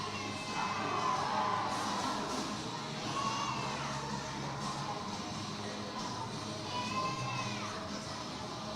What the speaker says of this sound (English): It is loud in the Chaparrals Event Center tonight, guys. Man, this crowd is packed.